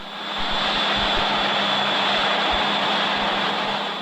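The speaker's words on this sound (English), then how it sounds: "the engine ignites, but there is still no operating afterburner." A jet engine on a speed boat ignites and runs at night, roaring as a steady, loud broadband blast with a high whine on top and low rumbling pulses beneath.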